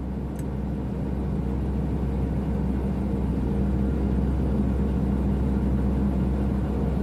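Guimbal Cabri helicopter engine in Microsoft Flight Simulator 2020 with its RPM climbing after the plasma ignition is switched back on: a steady low whirring drone at even loudness throughout, with no voices.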